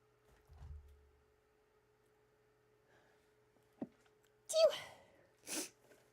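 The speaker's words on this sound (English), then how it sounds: "Oh, hang on, I might sneeze." A single sharp sneeze bursts out after a brief catch of breath, followed by a short breathy exhale in an otherwise quiet room.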